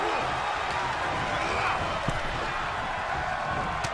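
Video game wrestling arena crowd in WWE 2K22 roars steadily in the background, a broad constant wash of cheering with a few faint thuds, under a commentator's voice.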